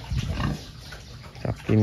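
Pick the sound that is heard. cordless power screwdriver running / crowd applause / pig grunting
pig grunting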